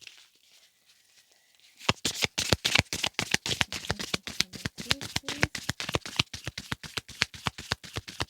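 A deck of affirmation cards being shuffled by hand: after a quiet pause, a fast, steady run of crisp card riffles and slaps repeats for several seconds, close and clear with no talking.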